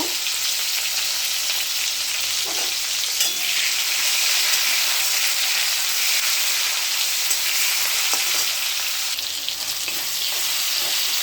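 Onion and spices frying in oil with cumin tempering give a loud, continuous close-up sizzle with faint stirring scrapes, with no voices.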